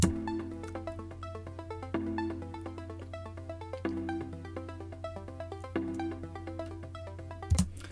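A synth arpeggio plays steady repeating sixteenth-note patterns over sustained chords in a bootleg production, with a chord change about every two seconds and a brief accent near the end.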